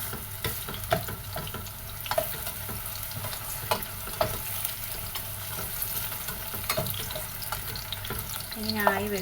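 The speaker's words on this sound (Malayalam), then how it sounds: "ഇങ്ങനെ വഴണ്ട് വരുന്നുണ്ട്, നന്നായിട്ട് വഴണ്ട് വരണം കേട്ടോ." Plantain frying in a pan for a Malabar sweet dish, a faint steady sizzle with occasional stirring scrapes and clinks, close and low under a quiet background, without speech.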